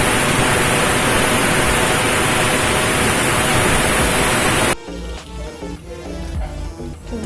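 Water from a tap pours in a loud, steady hiss as brinjal is washed under it, then cuts off abruptly, leaving faint clatter and handling sounds.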